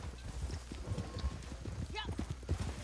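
Hooves of a galloping horse in the online multiplayer mode of Red Dead Redemption 2 pound in a rapid, steady rhythm throughout, with people talking over them.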